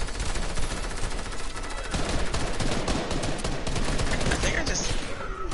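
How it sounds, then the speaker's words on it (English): Rapid gunfire in the video game Fortnite, dense repeated shots in continuous bursts over a busy game soundscape, loud and sustained throughout. "I just shot someone."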